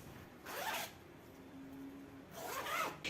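A zipper on a homemade bag sewn from old jeans is pulled in two quick rasping strokes, close and quiet, with a soft rub between them and no talking.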